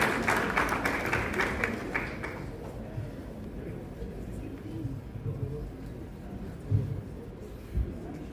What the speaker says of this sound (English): please make her welcome with a round of applause